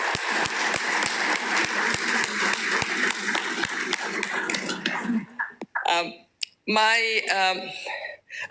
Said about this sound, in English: And I invite the audience to give a big round of applause to our host today